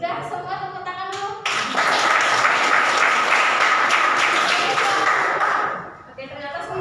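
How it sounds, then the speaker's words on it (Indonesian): Classroom of children clapping their hands in unison for several seconds, loud and close, after a short spoken prompt, with voices heard before and after the clapping. "sudah semua tepuk tangan dulu"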